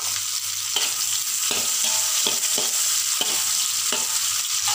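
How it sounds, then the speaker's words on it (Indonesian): Ingredients for mee goreng sizzle loudly in a hot pan while being stir-fried, a constant frying hiss broken by repeated scraping strokes of a spatula. "Kita goreng lebih kurang 1-2 minit cukup lah."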